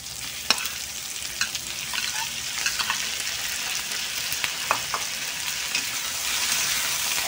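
Chicken frying in a pan with garlic and onion for pansit bato, a steady close sizzle with occasional stirring clinks and scrapes throughout, no talking.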